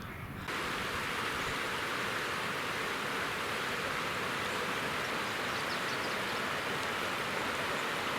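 Close, steady roar of a mountain river on the Krepkaya in the Altai, dense rushing water running unbroken throughout after a brief quieter start.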